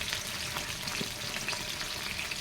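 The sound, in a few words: sardines frying with bottle gourd in a pan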